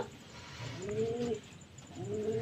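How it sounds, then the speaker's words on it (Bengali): Pigeons in a home loft with breeding birds and young squabs give two soft, close, throaty coos over a quiet background. "এখানে হচ্ছে কিছু ধাড়ি পায়রা আছে এখানে ডিম বাচ্চাও হয়েছে"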